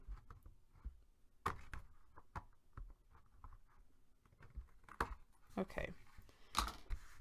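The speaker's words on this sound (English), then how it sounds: "I see just a smidge over here that I want to trim off." Scissors snip a small sliver of paper off the edge of a handmade romance paper folio, a few short crisp cuts mixed with paper handling, with a voice speaking briefly nearby.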